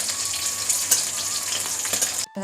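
Green chilies and garlic roasting in a hot pan give a continuous sizzle and crackle, ending with a brief clatter.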